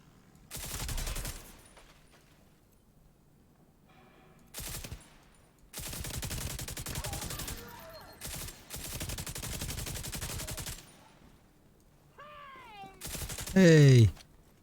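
Gunfire in the video game The Division 2 comes in loud bursts of rapid automatic shots separated by quieter gaps, ending with a short synthesized radio-style alert.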